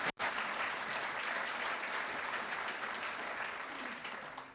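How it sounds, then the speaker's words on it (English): At a Texas Tech distinguished alumni dinner, a crowd applauds the new graduate school dean. The dense, even clapping runs alone for several seconds with no voices over it. "Mark, let's give him a round of applause."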